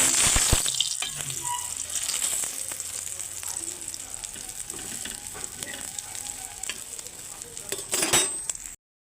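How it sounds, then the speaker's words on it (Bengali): An egg omelette fries in a pan just after being flipped, a steady close sizzle with a sharp clatter at the start and a few scraping touches of the spatula near the end. "এখন আমি ডিমটাকে উল্টে দিচ্ছি"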